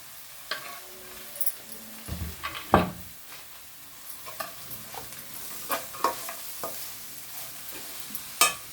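Vermicelli upma being stirred in a frying pan, with soft sizzling and scattered scrapes and clinks of the spoon against the pan, several sharper knocks standing out, close and fairly quiet with no talking.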